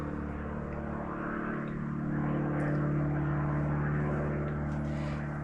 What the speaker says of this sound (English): let's let the plane go by.